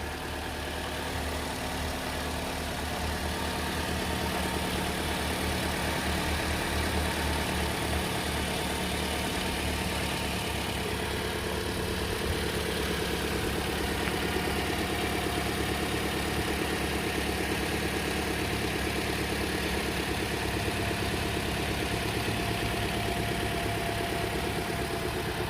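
A 2014 Toyota Corolla Altis GL petrol engine idles with a steady, even hum and mild vibration, heard up close and alone for the full length with no change in pace.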